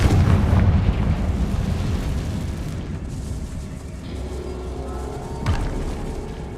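A Confringo fire spell explodes in the video game Hogwarts Legacy, a loud booming blast that opens the clip and rumbles away into a low lingering roar, with a smaller thump near the end.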